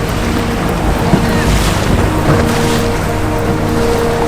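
A motorboat roars along over rushing ocean water off Trincomalee, Sri Lanka, with wind buffeting the microphone, a continuous loud wash of engine and spray.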